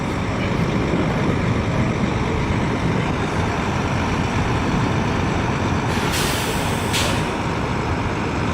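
City buses pulling up outside the Sands Expo Convention Center during a busy trade-show morning, with a constant roar of engines and traffic and two sharp bursts of air-brake hiss near the end.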